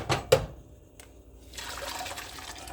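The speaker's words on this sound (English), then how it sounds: "You pour in the tea" Spiced tea with cinnamon sticks is poured into a pot of rice pudding. Two sharp knocks open it, then a soft liquid splash, and a steady trickling fill rises near the end.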